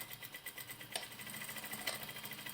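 A sewing machine stitches a seam on a lace mini skirt with a fast, steady, faint mechanical patter that runs without a break, with two brief louder clicks.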